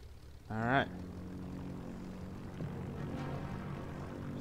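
A propeller plane engine in a World War II flight video game hums and drones steadily, with a brief voice-like burst near the start and a constant mid-level engine tone afterward.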